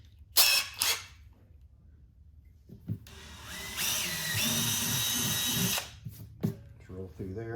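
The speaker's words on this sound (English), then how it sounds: "So for this, I'm using a 5/32 drill bit." A 5/32 drill bit cuts a hole during a subwoofer install on a BMW K1600B motorcycle, with short bursts of a power drill and then a sustained rising whine close up, mixed with some speech.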